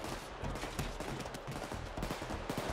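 Rapid gunfire in the video game Payday 2, with dense overlapping bursts of shots crackling steadily at close range throughout.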